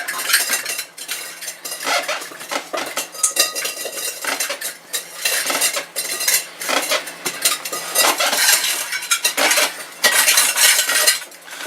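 Continuous scraping and stirring in a bowl, a utensil rasping and clinking against its sides in an uneven rhythm, close and fairly loud, with no talking.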